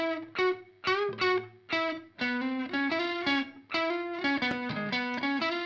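Guitar passed through Waves BB Tubes saturation, a rhythmic sequence of plucked notes and chords with added harmonic distortion thickening the tone, clear and upfront with no voices.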